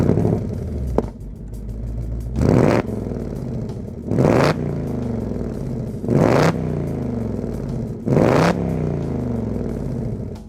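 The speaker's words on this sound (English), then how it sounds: "Let's rev it up a little bit so you can hear some of that V8 music." A 2025 Ford Mustang GT Premium's V8 with active valve quad-tipped exhaust revs four times in steady bursts, each sharp blip rising over a loud, rumbling idle and falling back.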